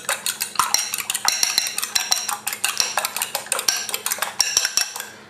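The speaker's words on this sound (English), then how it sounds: "So we want these eggs lightly beaten." Eggs being lightly beaten in a mixing bowl for an Irish barmbrack tea cake, heard as rapid, steady clinking and scraping of utensil against the bowl, close and fairly loud, with no voices.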